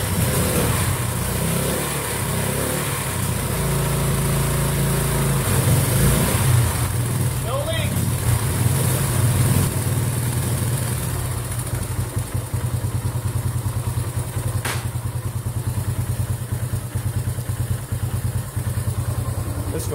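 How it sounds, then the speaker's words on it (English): Honda XL250 motorcycle engine, with a carburetor leak, starts and settles into a steady loud idle, its low rumble and clatter continuing close by with some revving; a voice talks faintly over it. "turn the key on, turn the run switch on, and it should start up"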